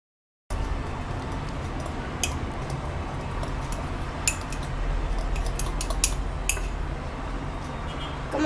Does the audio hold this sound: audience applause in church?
no